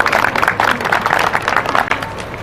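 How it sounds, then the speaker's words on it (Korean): A crowd applauds at an outdoor candlelight rally in Daejeon, welcoming a speaker with steady, loud, continuous clapping that fills the whole moment. "큰 박수로 맞이해 주십시오"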